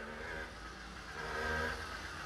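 A cheap old motorcycle engine idles without an air filter, a faint, steady low mechanical hum with a slight rise in the middle and no voices.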